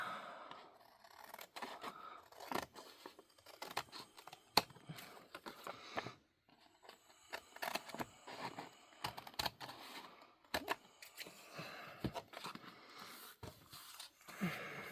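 Scissors snipping and trimming paper for a grungy tag craft project, a series of close, crisp cuts and rustling paper scrapes in an irregular rhythm, with no talking.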